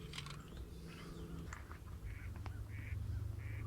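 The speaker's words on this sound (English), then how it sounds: "got some mallards. I hear that hen." A mallard hen quacks during a duck hunt in the Central Flyway, her calls coming in short bursts at moderate distance, with low wind or engine rumble and other waterfowl noise underneath.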